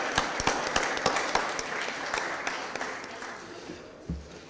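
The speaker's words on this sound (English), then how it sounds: "Let's give Reverend Booker one more round of applause." Applause follows a prayer by a reverend at a city Board of Aldermen meeting, with scattered claps that are moderately loud at first, then thin out and fade over a few seconds.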